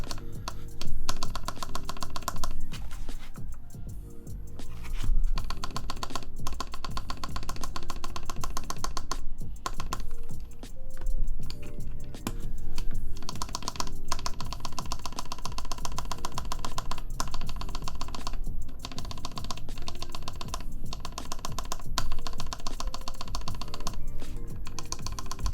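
Continuous mechanical key presses on a CannonKeys Chimera65 R2 prototype keyboard, quick uneven clacks in bursts with short pauses, close and clear with no talking.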